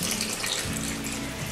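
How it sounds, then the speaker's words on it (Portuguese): Water pouring steadily from a tap or container into cake batter mix with margarine and powdered milk for a Ninho milk volcano cake, a continuous close splashing rush. "Agora eu vou colocar a água."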